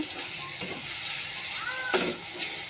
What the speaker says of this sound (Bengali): তেলের সাথে ভালোভাবে মিক্স করে নেব